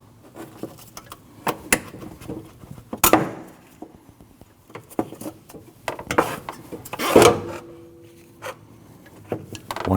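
Scattered scraping, rubbing and plastic knocks as the bottom hose is worked off the coolant reservoir of a Nissan NV2500 van, irregular close-up handling noises with brief louder clacks.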